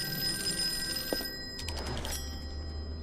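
Telephone ringing in a video game, a bright electronic ring tone repeating over a low background hum, with a thunk and a brief clatter midway.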